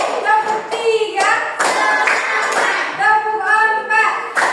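Fourth-grade primary school pupils clap their hands in class, in rhythmic bursts of counted claps that follow the teacher's lead, with her voice and the children's talk between and over the claps.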